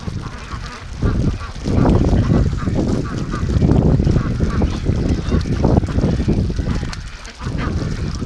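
A flock of brant geese honks continuously alongside domestic ducks, a dense chorus of overlapping calls that stays loud and close throughout, briefly thinning before swelling again.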